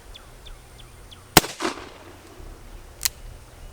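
A Cimarron Colt 1860 Army black-powder revolver fired at a range, one sharp loud crack with a short echo, then a second fainter report a moment later, with birds chirping in the background.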